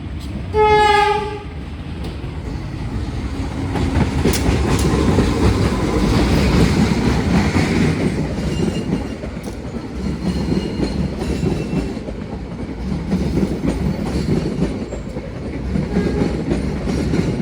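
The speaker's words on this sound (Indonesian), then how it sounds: "Kereta ekonomi new generation tapi yang versi modifikasi" A train horn blasts briefly at the start, then a heavy passenger train, a modified new-generation economy train, rumbles past a level crossing steadily with rhythmic wheel clatter, loud and close.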